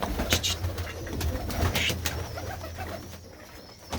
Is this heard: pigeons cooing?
yes